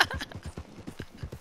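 Horse hooves in Red Dead Redemption 2 clop in a quick, regular rhythm, close and distinct, with a brief snort near the start and no talk.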